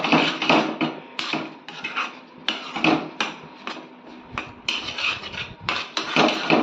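Ragi flour porridge (ragi sankati) stirred hard in a pot, producing repeated knocking and scraping thuds of the stirring stick against the pot in an uneven rhythm, close and fairly loud, with no speech.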